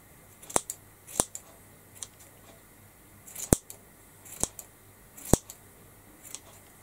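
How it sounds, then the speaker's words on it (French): Scissors snip through a rag doll's hair to layer it: five or six sharp, crisp cuts, spaced unevenly, close up with no other sound. "je vais couper pour dégrader encore un peu."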